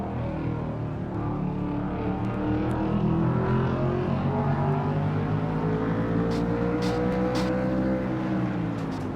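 Race car engine in a racing video game of a Castrol GTX Cup Series oval race, a loud sustained drone climbing steadily in pitch as it revs up to about 8,300 RPM, with other cars buzzing nearby.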